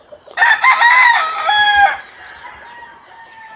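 A young gamecock (stag) crows once, loud and close, a rising then sustained call lasting about a second and a half, followed by quieter farmyard background.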